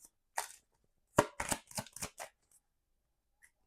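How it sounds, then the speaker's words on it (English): Tarot cards are shuffled in quiet surroundings: a short riffle, then a quick cluster of crisp papery slaps and flutters, close and fairly soft, followed by a couple of faint taps. "Let's shuffle this one more time."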